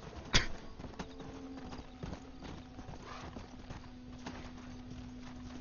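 Zombie horse hooves clip-clop in a steady walking rhythm at moderate volume in Red Dead Redemption: Undead Nightmare, with a soft whinny near the start and a faint background hum.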